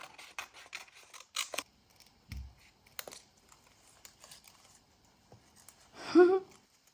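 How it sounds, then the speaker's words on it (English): Scissors snipping an egg picture out of a paper page, a run of small crisp cuts and rustles that pause and restart, close and fairly quiet, ending in a louder paper crinkle. "Let's cut it out and see if that would work."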